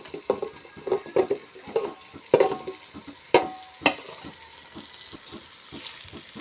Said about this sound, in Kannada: ಈಗ ನೋಡಿರಿ ಇದನ್ನು ಹಾಕ್ಕೊಂಡಿದ್ದು ಇದು ಫ್ರೈ ಆಗೈತ್ರಿ